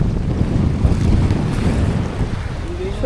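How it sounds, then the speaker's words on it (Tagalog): Waves crash and churn continuously in a loud, rushing roar, with wind buffeting the microphone throughout. "Pero sumusuntok yung alon no."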